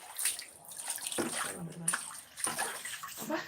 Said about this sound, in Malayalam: ഈ ബക്കറ്റിലെ വെള്ളവും നന്നായിട്ട് കുഴഞ്ഞ് കളയുന്നുണ്ട്